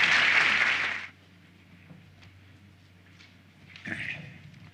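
A room of people at a legal services anniversary forum claps for a congresswoman in a dense burst that stops abruptly after about a second. A brief shuffle or murmur follows later over a steady low hum.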